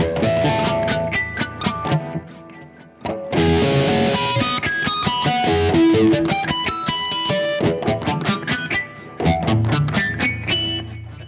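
Overdriven electric guitar through a Sinvertek N5+3D Golden Version drive pedal, playing chords and ringing notes, loud and saturated, with a brief pause before the strumming resumes.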